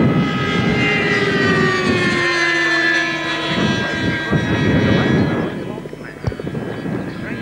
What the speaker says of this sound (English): I'll let you listen to the engine so you can hear the sequence of events leading up to the crash.